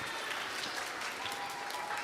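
Audience applause at a kids camp, brief steady clapping from a room of people, continuous and moderately loud with no speech over it.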